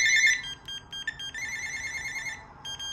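A Panasonic KX-TG210 cordless phone plays its electronic ringtone up close, a bright, melodic sequence of beeping tones in short repeating phrases with brief gaps between them.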